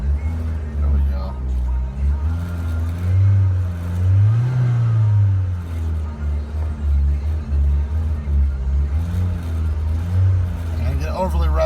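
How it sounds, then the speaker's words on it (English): A 2003 Ford Focus SVT engine revving on a test run, a close low rumble rising and falling through several smooth revs with a deep droning tone, while a person talks over it. "it's revving up nice and smooth"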